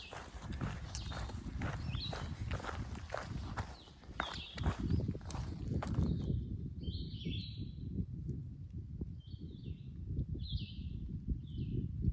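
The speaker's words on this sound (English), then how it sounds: "Bird sounds so awesome." Birds sing in short high chirping phrases along the Appalachian Trail, faint and scattered at first beneath heavy rustling footsteps, then clearer and more distinct once the walking quiets.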